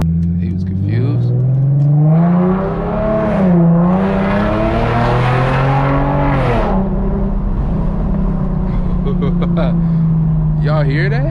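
Infiniti G37x with muffler and resonator delete, its engine and exhaust droning close and loud while accelerating and shifting through gears, with windows down and people talking over it.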